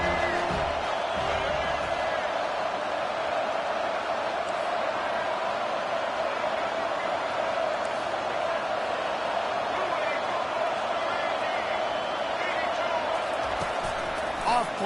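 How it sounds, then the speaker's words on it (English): A loud football stadium crowd roars continuously for the home defense, a dense, sustained wall of cheering and noise that never lets up, with a commentator talking over it. "Listen to this crowd just shaking the girders of this place trying to help their defense."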